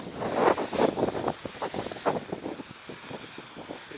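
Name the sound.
wind blowing on a beach by the sea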